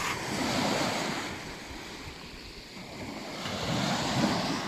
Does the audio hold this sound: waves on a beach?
yes